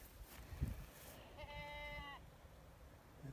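A goat with a hoarse voice gives one strained, rasping bleat lasting under a second, heard outdoors against faint background noise and low rumbles.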